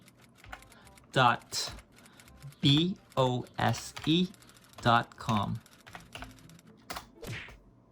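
Typing on a computer keyboard, with rapid clustered key clicks running through the passage while a person speaks over them.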